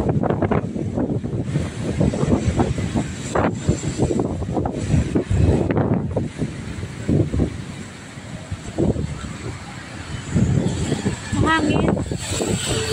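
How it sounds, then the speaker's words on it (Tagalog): Gusty wind on a ranch in Tagaytay buffets the microphone in heavy rumbling bursts that rise and fall, with a voice talking briefly underneath and a fainter stretch in the middle. "Mahangin."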